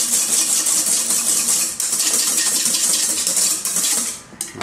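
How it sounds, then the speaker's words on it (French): An electric mixer whipping egg whites with sugar for a meringue runs continuously at high speed, with a bright whirring buzz and the beaters clattering against the bowl, loud and close, before it briefly dips near the end. "Surtout jamais s'arrêter de battre les œufs"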